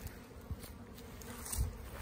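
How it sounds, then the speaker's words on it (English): Honey bees flying around hives in a holding yard, a faint, continuous buzzing hum with occasional soft thumps and rustles nearby. "I just don't think you can really understand in the video how many bees are flying around out here."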